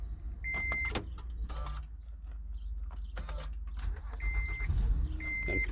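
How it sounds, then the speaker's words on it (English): A Honda Odyssey minivan with a blown-fuse no-start problem runs at a steady low idle. Several short electronic chime tones and brief clicks sound over the engine rumble. "so the car's running."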